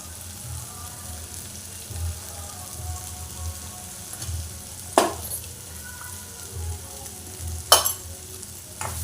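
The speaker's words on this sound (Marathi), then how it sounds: "आणि तो घालून परतून घेऊया मसाले घालून घेऊया" Spices and onion are sautéed in a pan, giving a steady, moderate sizzle with soft stirring, broken by two sharp metallic clacks of a spoon against the pan, with no voices.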